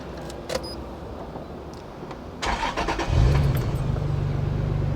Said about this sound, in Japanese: でじゃあエンジンもちょっとかけますよ。